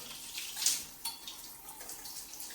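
A handheld shower head on a square rain shower combo runs water in a steady, soft hiss, with faint splashes and small spattering peaks throughout.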